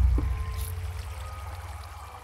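Water streams and pours steadily in a blocky survival video game, a continuous rushing wash over a low rumble with no voices.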